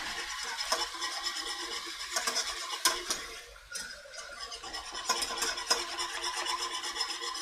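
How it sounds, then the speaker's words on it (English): A chicken and sweet potato stir fry is stirred in a pan, giving continuous scraping and rasping with faint clinks of the utensil against the metal, steady and close, with no talking. "keep stirring, keep stirring"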